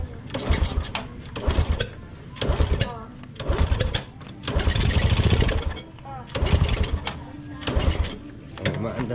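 A Honda Wave 125 motorcycle that sat stored a long time is cranked repeatedly after a carburetor overhaul. Several mechanical starting bursts of about a second each come in a regular rhythm, close up, with gaps between attempts.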